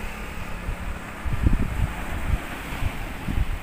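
Waves break and wash ashore in low, rumbling surges over a steady background roar, with wind buffeting the microphone.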